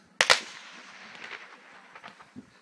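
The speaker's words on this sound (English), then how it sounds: "my neighbors are putting off a wimpy fireworks display over here" Neighbours' small backyard fireworks going off outdoors: two sharp, loud cracks close together at the start, then a fading crackle with scattered fainter pops trailing away.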